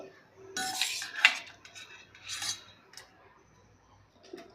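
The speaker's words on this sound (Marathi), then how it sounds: "बघा अशा पद्धतीने आपण ह्या सगळ्या फोडी मिक्सरच्या भांड्यामध्ये घालून घेऊ" Cooked raw mango pieces are scraped into a mixer jar in short bursts of rasping metal and clinking, close up, with pauses between the scoops.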